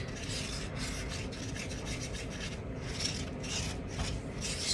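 A tool scrapes the sides of a cup while mixing tinted epoxy resin, producing a steady close rasping scrape with rhythmic strokes throughout, quiet and without talk.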